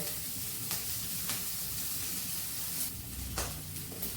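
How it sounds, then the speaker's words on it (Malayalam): Green chilies frying in hot oil in a pan, a continuous close sizzle and crackle with a few sharper pops and stirring scrapes, no talk. "നല്ലോണം ചൂടായിട്ടുണ്ടെങ്കിൽ ഇതിലേക്ക് പച്ചമുളക് ഇടാം പച്ചമുളക് വാടി വരട്ടെ"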